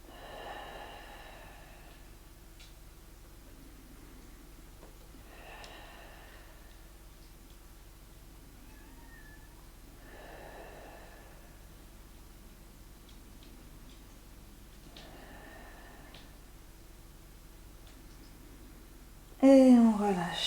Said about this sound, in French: on va rester en bas pour 5 respirations profondes